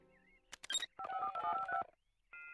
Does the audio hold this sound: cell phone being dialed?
yes